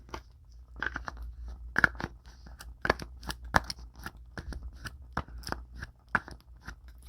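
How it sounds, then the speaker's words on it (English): Art Nouveau style tarot cards being dealt one after another in a quiet room, a series of crisp, close snaps and flicks with brief pauses between them, with nobody speaking. "And then I'm also going to deal out"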